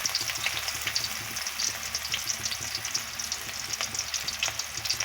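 Chopped onions fry in a pan for shrimp with taro, giving a steady, dense sizzle throughout with faint scattered crackles and no speech.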